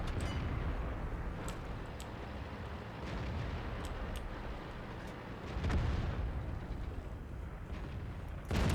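Tank guns firing and shells striking armor in World of Tanks, a Pz 58 Mutz in battle, with repeated sharp booms and impacts over a constant rumbling battle backdrop, a heavier blast near the end.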